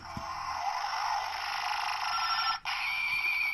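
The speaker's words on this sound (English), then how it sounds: "So this is a henshin sound." Henshin transformation effect from a toy device: a sustained, loud, bright electronic whooshing tone lasting several seconds, with a brief dropout near the end, close and alone with no talking.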